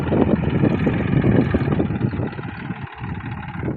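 A farm tractor's engine idles nearby in a field, a loud, continuous rumble that eases slightly toward the end.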